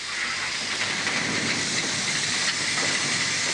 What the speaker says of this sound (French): C'est le rire de la locomotive, comme dit Émile Zola.